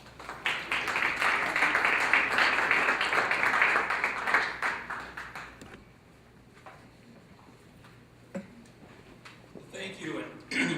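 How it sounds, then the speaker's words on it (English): Applause from a morning community event audience fills the first half, dense clapping that fades out around six seconds, followed by quieter room sounds and a few scattered taps. "let's give him a round of applause"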